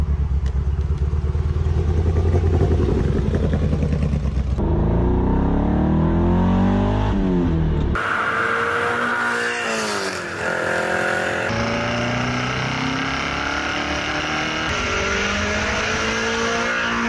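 A 1983 Ferrari 308 on the move, its engine rising and falling through several revving accelerations and gear changes, with the pitch sweeping up repeatedly, fairly close and loud throughout.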